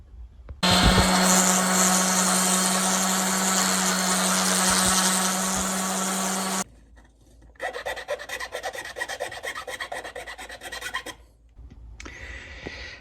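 Loud power sanding of R2-D2 foot motor assembly parts with a steady motor whine, then a pause and rougher rasping bursts of sanding on a part.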